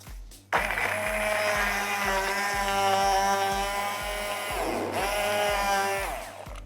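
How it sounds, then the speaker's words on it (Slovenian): Immersion blender running continuously through a banana, frozen berry, water and vanilla protein smoothie, a loud steady motor whir with pulsing, shifting tone as the stick moves through the mix, briefly dipping near the end. "sedaj bom pa s paličnim mešalnikom vse skupaj zmiksala"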